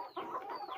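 ISA Brown laying hens cluck close by in a brief, busy burst of overlapping fowl calls, steady and moderately loud with no talking.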